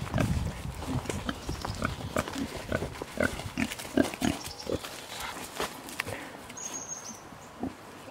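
Pigs on a homestead pasture grunting and oinking close by in short irregular bursts, with rustling and a faint bird chirp in the background.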